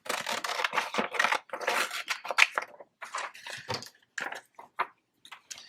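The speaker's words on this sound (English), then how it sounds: "Let me go ahead and kind of halfway trim it out into a square" Scissors trim a thin fussy-cut paper ephemera piece into a rough square, giving quick crisp snips and rustling cuts in uneven bursts with short pauses, close and fairly loud, with no talking.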